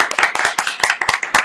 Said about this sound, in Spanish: aplausos para esa primera.